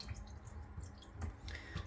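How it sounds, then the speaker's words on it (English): Water dripping from an old bathtub drain pipe into a bucket, heard as faint, irregular drips and low gurgles during a bathtub removal. "Alright, so the water's going to drip"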